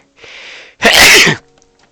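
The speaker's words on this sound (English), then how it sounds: "I sneezed so hard I'm like throwing axes." A single loud, close sneeze from a man during a Minecraft gaming stream, preceded by a softer sharp intake of breath, then quiet.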